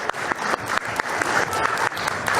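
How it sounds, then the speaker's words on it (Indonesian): An audience claps for a presenter at a panel discussion, a steady, dense burst of applause lasting a couple of seconds with no voices over it. "boleh tepuk tangan silakan."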